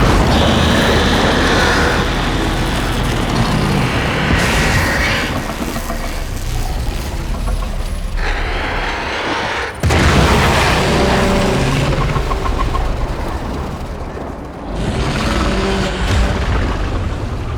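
A loud, sustained explosion rumble in the video game Warframe, in the Heart of Deimos setting, with dense roaring blasts and debris-like crashes that swell, briefly break off, then resume at full strength.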